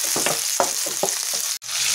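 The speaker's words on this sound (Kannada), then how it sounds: "ಆಯಿಲ್ ಬಿಸಿ ಆಗಿದ್ದೇನೆ, ಕ್ಯಾಪ್ಸಿಕಮ್ ಸ್ವಲ್ಪ ಫ್ರೈ ಮಾಡ್ಕೊಳ್ಳೋಣ" Capsicum frying in hot oil, a steady loud sizzle with repeated stirring knocks of a utensil against the pan, close up, with a brief break near the end and no voices.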